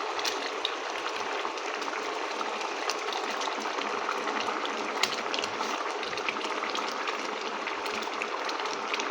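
Fish curry with potato and pointed gourd simmering in a pan, a steady dense bubbling and crackling boil that stays close and even throughout with no talk.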